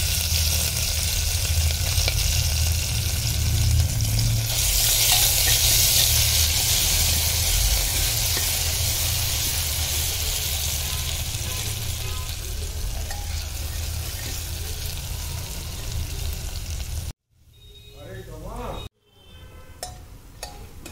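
Green chilies slit lengthwise and grated ginger sizzling in hot oil, a loud, steady frying hiss with some stirring that briefly drops away near the end, while someone talks over it.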